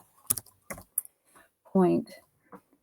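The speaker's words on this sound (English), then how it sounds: "I was typing" Computer keyboard keys tapped in a few sharp, irregular clicks at close range, with a brief spoken sound in between and quiet gaps.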